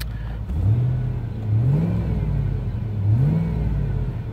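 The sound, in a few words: car engine idling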